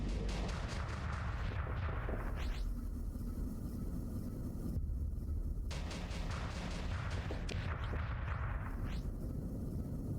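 Starsector space combat with ship lasers and weapons firing continuously, a dense barrage of rapid zaps and booming impacts at steady loudness throughout, with no talk.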